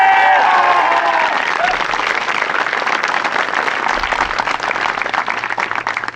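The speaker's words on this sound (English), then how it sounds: "Huge round of applause for them." Loud audience applause fills the hall with dense, steady clapping that carries on throughout, with a brief cheer or voice near the start.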